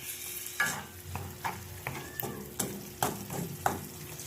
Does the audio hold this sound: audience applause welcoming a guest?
no